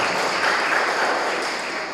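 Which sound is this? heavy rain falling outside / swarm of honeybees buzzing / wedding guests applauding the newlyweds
wedding guests applauding the newlyweds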